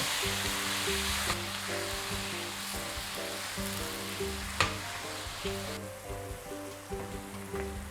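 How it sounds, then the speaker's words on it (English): Mushrooms sauté in a pan for a Polish cream sauce, giving a continuous, even sizzle with a few light crackles and stirring taps, heard alone without talking. "And this will saute in here for just a little bit"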